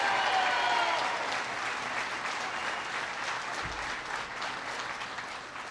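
Audience applause at a speech held at the Daimler Detroit Diesel plant in Detroit, a dense steady clapping from a large indoor crowd that stays loud and slowly tapers over several seconds.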